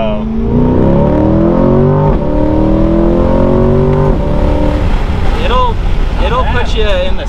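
A 2022 Chevrolet Corvette C8 Stingray Z51 2LT engine climbs in pitch through the revs toward redline, loud and close from inside the cabin, with wind noise and people talking over it.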